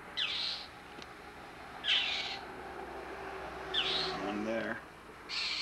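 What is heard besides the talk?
birds calling loudly at the fairgrounds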